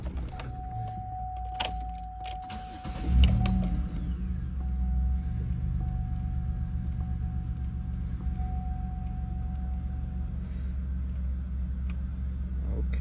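A 2008 Chevy Uplander minivan is started again after an oil change: a short crank at about three seconds, then a steady low engine idle for the rest of the clip. Keys jangle and a faint tone can be heard beforehand.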